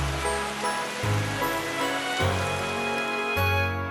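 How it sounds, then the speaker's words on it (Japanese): Rain ambience in the Animal Crossing video game, a steady wash of rainfall on surfaces with soft tonal music layered underneath, continuous and even, no voices. "環境音は雨です。"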